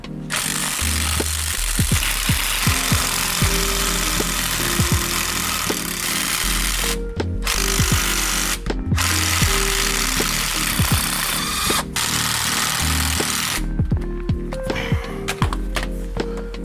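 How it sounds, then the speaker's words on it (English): Loud, continuous mechanical clatter from an impact wrench or similar power tool working on the bolts of a BMW E46 M3 rear camber arm, with steady engine-like drone and repeated bursts throughout. "I'll be able to just remove these with impact and just spin the wheel wherever I need it."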